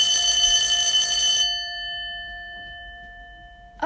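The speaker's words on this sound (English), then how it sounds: "oh no, the bell just rang" A school bell rings loud and near in a shrill metallic burst for about a second and a half, then its tone fades slowly and lingers until a small click at the end.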